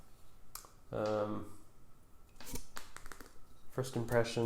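A TTartisan 50mm F1.2 lens for Fuji has its aperture ring turned, giving a few brief, crisp clicks in short bursts between stretches of someone talking nearby.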